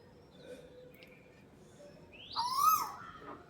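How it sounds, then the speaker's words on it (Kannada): A koel, an Asian cuckoo, calls from a mango tree near a home, giving a single rising whistled call at moderate distance over a steady background hiss. "ನಮ್ಮ ಮಾವಿನಕಾಯಿ ಗಿಡದಾಗ ಕುತ್ಕೊಂಡು ಕೋಗಿಲೆ ಕೂ ಕೂ"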